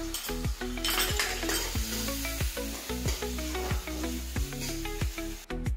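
Paneer chilli stir-frying in a pan with soy sauce and red chili sauce, a steady loud sizzle under repeated rhythmic scrapes and clinks of a spoon stirring against the metal pan.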